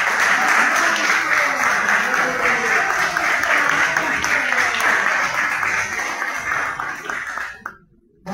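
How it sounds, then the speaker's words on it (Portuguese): An audience applauds at a board inauguration ceremony for public servants, loud sustained clapping from many hands that fades and cuts off near the end. "Uma salva de palmas."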